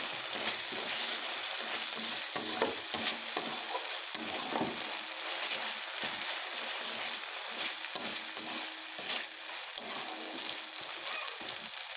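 Turmeric and masala spices fry in hot oil in a pan for a crab curry, making a steady, loud, close sizzle with frequent small stirring scrapes throughout and no voices.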